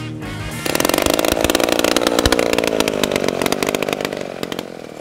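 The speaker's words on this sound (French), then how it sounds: "La lame découpe avec rapidité et précision les billes." A loud chainsaw roars into a cut after a brief idle, slicing logs into sections at a sawmill. The engine holds a steady, harsh whine at close range.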